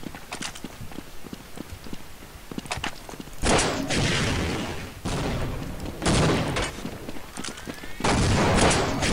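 Bursts of video game gunfire, rapid cracking shots interspersed with louder sustained volleys, busy and close, with clattering footsteps-like taps between.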